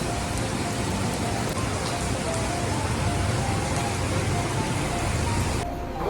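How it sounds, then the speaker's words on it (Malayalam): Heavy downpour in Kuala Lumpur, a dense, continuous roar of rain pounding surfaces nearby, steady and loud throughout with no voices over it. "പുറത്ത് പെരുമഴയാണ് ഗൈസ്, പെരുമഴ"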